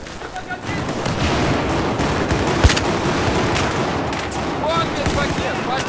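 Rapid gunfire in Battlefield 4 on the Operation Metro map during a Conquest match: dense, loud automatic bursts with sharp individual shots running throughout, and voices talking in the mix.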